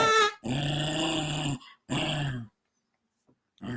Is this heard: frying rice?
no